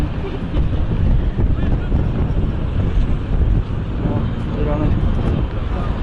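Heavy wind buffeting the microphone, a loud, continuous low rumble with gusty surges throughout, no clear voice breaking through.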